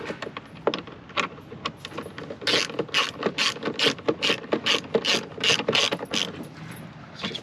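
Ratchet snugging nuts on a Polaris during an oil-leak repair, quick close clicking strokes in short bursts, speeding up into a steady rapid rattle.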